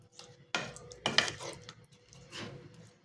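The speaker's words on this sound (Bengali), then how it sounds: "এই দেখো চাপা দিয়ে দিলাম" A metal lid clanks onto a cooking pan of soybean curry, a few short light clatters and a scraping knock, close and fairly quiet in a home kitchen.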